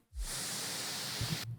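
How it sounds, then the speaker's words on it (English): A white noise sweep effect for festival trap and dubstep production rises in as a broad, loud hiss and holds steady for over a second before cutting off abruptly, with a faint low thump near the end. "Some more impacts, riser, or white noise sweeps"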